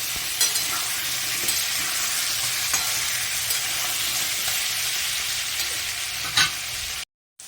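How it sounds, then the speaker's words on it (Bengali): Potatoes seasoned with turmeric and salt fry in a pan with a bay leaf, making a steady close sizzle with occasional stirring scrapes. "যে ভালোভাবে এখন আলুটাকে আমি ভাজা করব"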